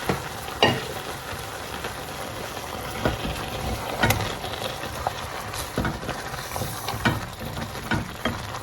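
Beef with tolo and other ingredients sizzles steadily in a pot as it is stirred, with faint spoon scrapes and little pops and clicks over the frying hiss, heard up close.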